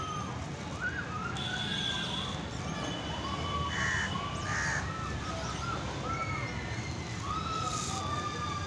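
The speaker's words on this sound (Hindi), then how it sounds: "ये आप लोग देख सकते हैं ये कौआ भी आया है चिल्ड्रंस पार्क झूला झूलने" A crow caws several times in a children's park with swings, its harsh calls standing out clearly over steady background bustle and faint voices.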